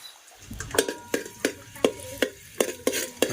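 Garlic sizzles in oil in a pan while a spoon stirs it in regular, sharp scraping strokes about every third of a second, close and distinct over a soft frying hiss.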